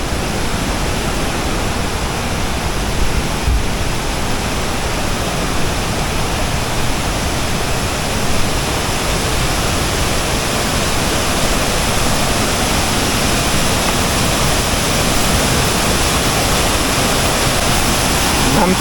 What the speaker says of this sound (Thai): ก็คือว่ามีน้ำตกแบบนี้ ตลอดเส้นทางการยางขึ้นไป